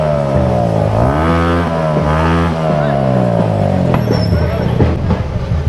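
A Bajaj 125 cc motorcycle's exhaust revs hard up close, its engine pitch sweeping up and down in repeated loud surges for several seconds before settling into rougher, choppier bursts.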